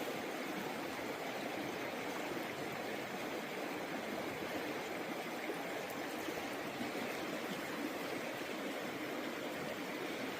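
Water from a Western Washington stream rushing and trickling steadily around a gold prospecting pan being washed out, a continuous broadband babble with no talk.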